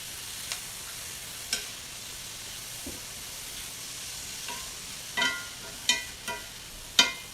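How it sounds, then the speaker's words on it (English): Onions and about a cup of minced garlic sautéing in a pan for salsa make a soft, low steady sizzle, punctuated by scattered spoon scrapes and clacks that grow sharper toward the end. "Nothing like sautéed onions."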